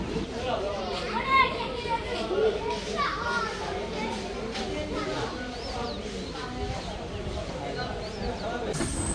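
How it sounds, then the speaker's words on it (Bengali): Small children play on swings at Domar railway station, their high voices and shouts ringing out close by in a steady chatter, with birds and a busy open-air background behind them. "ছোট বাচ্চাদেরকে দোলনায় দোল খেতে দেখে আমার ছোটবেলার স্মৃতিগুলো মনে পড়ে গেল"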